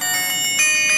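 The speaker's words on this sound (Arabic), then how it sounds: "ده كده صوت الساعة في الرن في الجرس." A bright electronic ringtone plays a repeating tonal melody from a copy of an Apple Watch Series 6 smartwatch, close and fairly loud with no talking.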